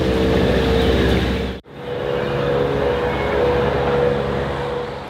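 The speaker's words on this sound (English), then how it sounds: "You can already hear the engine isn't sounding healthy" An unhealthy-sounding engine runs steadily at a loud, close level with a rough, droning tone, cutting out for a split second partway through before carrying on.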